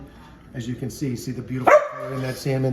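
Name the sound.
dog barking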